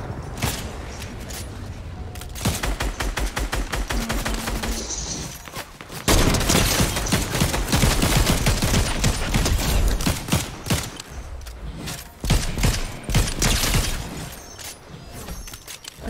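Heavy sniper rifle fire in a shooter video game, with dense overlapping bursts of gunfire and rattling mechanical clatter that grow busier and louder after the first few seconds, no talking.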